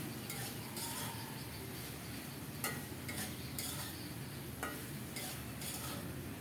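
Okra stir-frying in a pan with dried fish, a steady soft sizzle under repeated scraping strokes of a spatula, quiet and close with no voices.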